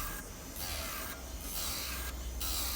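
A nail file rasps back and forth across a fiberglass nail in steady, close strokes, three rhythmic passes with short gaps, quiet and without talk.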